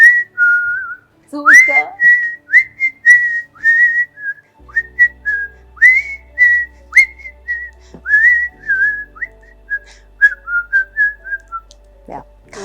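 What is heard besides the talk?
person whistling a tune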